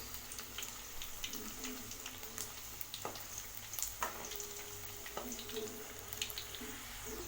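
Crispy egg finger snacks frying in hot oil, a continuous close bubbling sizzle with scattered crackles and occasional spoon taps against the pan.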